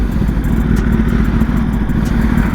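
A 2024 Kawasaki Ninja ZX10R sport bike engine runs steadily at a low, loud rumble, close by and continuous with no clear revs, and no one speaks.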